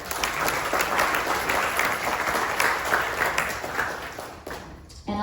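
Audience at a chamber of commerce general membership meeting in Guam breaks into sustained applause, a dense wash of clapping that holds steady for several seconds before tapering off near the end.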